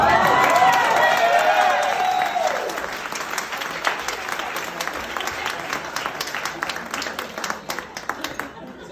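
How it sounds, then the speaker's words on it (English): A pub audience applauds and cheers while a voice with laughter rides over the start, then the clapping thins into scattered claps and tails off by the end. "For those of you who just applauded,"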